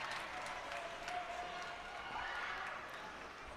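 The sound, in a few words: crowd cheering for the Viator side at a hockey game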